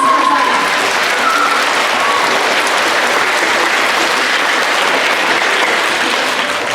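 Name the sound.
applause from the audience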